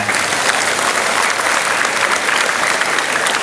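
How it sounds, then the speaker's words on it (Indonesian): Sustained applause from a large school crowd at the final flag ceremony at SMAN 2 Garut, honouring the ceremony officers, with steady, dense clapping throughout and no voices. "Sekali lagi berikan aplaus untuk petugas upacara hari ini ya."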